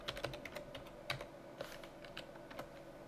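Quick bursts of clicky keystrokes on a computer keyboard, close and fairly quiet, tapping in an uneven rhythm with no voices.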